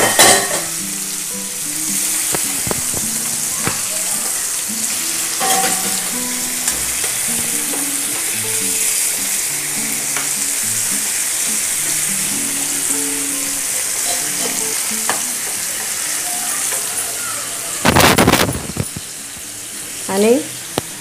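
Chicken tangdi kebab (drumsticks) sizzling and frying in a pan just after being turned, a steady close crackle with scattered stirring and utensil clatter, and a brief louder burst near the end.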